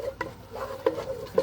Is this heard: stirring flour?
yes